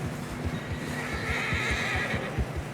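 Horses in the Red Dead Redemption 2 video game whinny while their hooves clip-clop in a steady rhythm through fresh snow, fairly faint and close.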